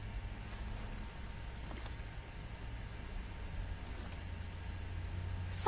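Steady rain hisses and patters against a car window in Batman: The Enemy Within, a soft, even wash of noise over a low rumble from start to finish, with no speech.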